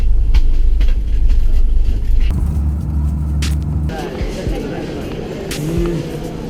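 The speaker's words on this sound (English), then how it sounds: "That's our train, Mumbai Rajdhani" The Mumbai Rajdhani passenger train rumbles past close by with a deep, shifting engine drone and rhythmic clatter, voices audible over the noise.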